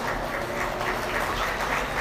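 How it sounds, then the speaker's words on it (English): Steady round of applause from a crowd at a dairy cattle show honoring the Peewee showmen, a dense continuous wash of clapping filling the whole stretch at even loudness with no talk. "give them all a round of applause."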